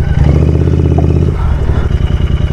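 A Continental GT 650 motorcycle engine revs hard while the bike is stuck on an off-road trail near a lake, a loud, continuous low rumble with clattering that shifts pitch midway.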